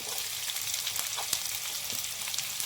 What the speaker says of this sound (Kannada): ಹಾಗೆ ಸ್ವಲ್ಪ ಬೀನ್ಸು ಇದಿಷ್ಟು ಚೆನ್ನಾಗಿ ಸ್ವಲ್ಪ ಫ್ರೈ ಮಾಡ್ಕೊಳ್ಳೋಣ